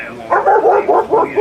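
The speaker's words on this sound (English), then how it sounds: "Are they not drug dogs, no?" Several police dogs bark and yip in quick bursts at a street protest, fairly close, with voices and crowd noise around them.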